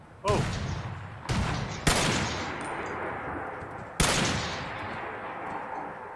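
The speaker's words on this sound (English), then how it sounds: "I can fire this thing rapidly" Weapon fire in the video game Fallout 4 comes as four loud, sharp blasts spaced unevenly over several seconds, each trailing off into a long echoing decay.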